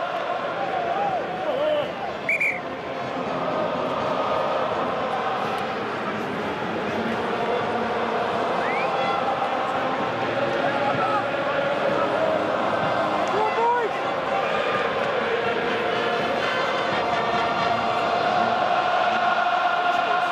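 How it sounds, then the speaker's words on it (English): French rugby crowd at a France v England Six Nations match, a steady broad roar of cheering and chanting filling the stadium throughout, with commentary voices talking over it. "the French crowd, doing their very best to try and lift their side once more"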